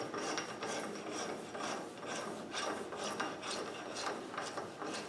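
A socket ratchets as wheel hub nuts are tightened on a Land Rover 90 300Tdi, a series of rhythmic rasping clicks in quick bursts, close and fairly quiet.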